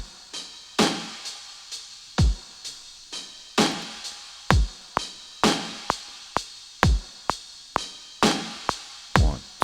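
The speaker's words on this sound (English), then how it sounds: "it also hits at tasteful upbeats and downbeats, like with the kick and the snare" A drum beat in 5/4 time with kick and snare rolls along steadily, deep booming kicks alternating with bright cracking snare hits and cymbal wash, loud, close and alone with no voices.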